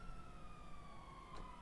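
A police car siren in a video game wails with a slowly falling tone over a continuous engine and traffic rumble, steady and fairly close, with no speech.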